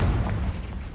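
A single booming blast from the Confringo fire spell in Hogwarts Legacy, a heavy low thump that decays quickly within about a second.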